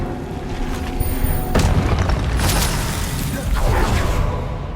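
Expelliarmus, a spell from the Hogwarts Legacy wizarding game, is cast with a sudden magical boom and whoosh. A loud burst follows, and a second surge rolls in moments later over a humming magical backdrop.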